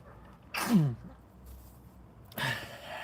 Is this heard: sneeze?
yes